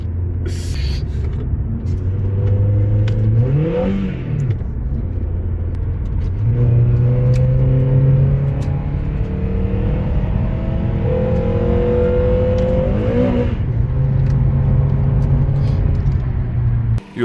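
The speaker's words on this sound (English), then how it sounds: "the clutch is slipping and it kicks like a fucking horse" Engine of an old Honda car with a slipping clutch revving up and down repeatedly, rising pitch sweeps over a steady rumbling idle, loud and close, no voices.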